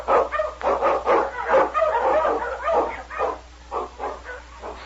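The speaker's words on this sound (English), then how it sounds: "The Wonder Dog King, swiftest and strongest of Eskimo lead dogs, blazes a trail through storm and snow for Sergeant Preston" An Eskimo lead dog barks repeatedly in a radio drama, a rapid run of yips and bow-wows with a whimpering edge, near and fairly loud, with no voices over it.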